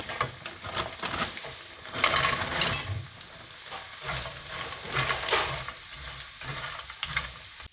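Onion, corn and mince sizzle while frying in a pan, with steady crackling and scraping stirs rising and falling throughout, close and moderately loud.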